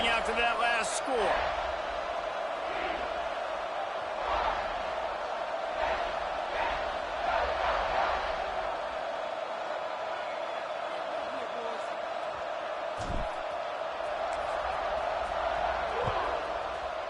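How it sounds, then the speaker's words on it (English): A stadium crowd in the video game College Football 26 buzzes and cheers after a touchdown, a loud, sustained roar with occasional whoops and thuds, with a commentator's voice talking over it. "this crowd is buzzing after that last score"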